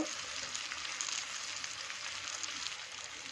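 Fish coated with turmeric, cumin, coriander and chilli powders frying in oil in a pan, giving a steady, close hiss and crackle that continues without a break.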